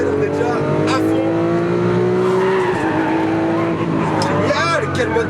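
A Lamborghini Aventador with a 700-horsepower engine and carbon chassis accelerates hard on a race track, its loud, sustained engine roar rising in pitch with squealing tires, close and continuous throughout.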